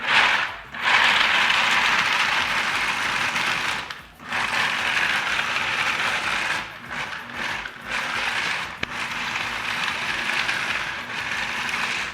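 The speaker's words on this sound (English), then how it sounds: "all I'm doing in here is doing a quick blitz within your food processor" Nuts being blitzed to a fine crumb in a food processor, a loud, close whirring grind that runs in several bursts separated by brief pauses.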